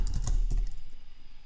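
A quick burst of keystrokes as a command is typed on a computer keyboard, the clicks close and crisp at first, then trailing off into quiet.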